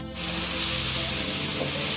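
Flat beans sizzle hard in a pan with salt and turmeric, a loud, steady hiss of frying that starts abruptly and holds close and constant, with no talk over it.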